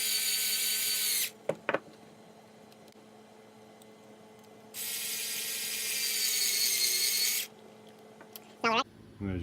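Screws being pre-threaded into a 3D-printed plastic charging stand with a power tool, two long whirring bursts separated by quiet, with brief clicks and short mechanical squeaks in between.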